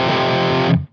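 An electric guitar played through a Blackstar HT Studio 20 tube amp in a heavily distorted metal tone rings out as a single sustained chord that cuts off abruptly after under a second.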